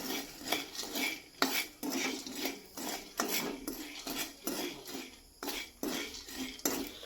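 Chickpeas frying in a pan, heard as a faint, irregular series of scraping, clinking stirs against the metal, with short rustling bursts and pauses between them.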